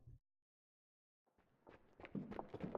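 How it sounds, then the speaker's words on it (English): Footsteps coming up the stairs in the Steins;Gate 0 visual novel, a faint series of soft thuds building closer and louder after a moment of silence. "The sound of footsteps coming up the stairs."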